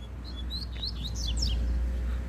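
A double-collared seedeater (coleiro) songbird gives a quick series of bright chirps and short rising and falling whistled notes, fairly close, over a steady low hum with no voices.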